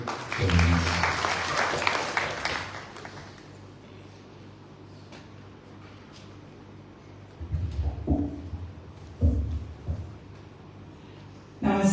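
A short burst of audience clapping at a Hindu cultural evening fades after about three seconds, leaving a quiet room with a few soft knocks and thumps.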